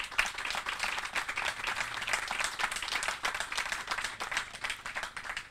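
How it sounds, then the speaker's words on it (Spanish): Steady, dense applause from an audience honouring an Argentine Air Force nurse at a public event, many hands clapping continuously at an even level throughout with no talk over it. "Le pedimos un aplauso grande para ella."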